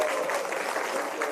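Audience clapping at a political meeting with mothers as Democratic Party lawmakers are introduced: a brief, dense burst of crowd applause, loud and continuous, with a voice faintly over it.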